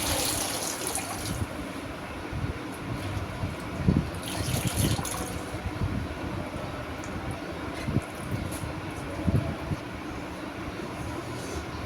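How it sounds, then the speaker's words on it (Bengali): Leafy greens are rinsed in water in a home kitchen, giving a steady, fairly loud gush of running water with splashes and sloshing throughout. "তো শাকগুলো এখন 3-4 বার করে ধুয়ে নিব"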